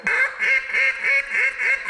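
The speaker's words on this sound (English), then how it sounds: "I'll give you the matching duck call" A duck call is blown close by in a quick run of five or six nasal quacks with an even rhythm, loud and alone.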